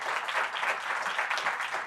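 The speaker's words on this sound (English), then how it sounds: "could we please give a warm round of applause for our panelists?" An audience at a sustainable real estate finance conference applauds the panelists, a steady patter of many hands clapping for the whole stretch, moderately loud and without talk.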